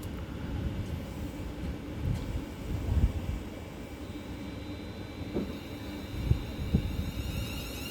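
A London Northwestern Railway passenger train pulls away from Cheddington station on the West Coast Main Line, a steady broadband rumble of wheels and traction with occasional rail clanks, no talking.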